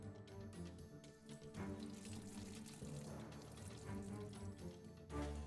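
Pond water poured into freshly drawn buffalo milk in a cartoon village scene: a steady splashing pour runs throughout, fairly soft, with a brief louder splash near the end.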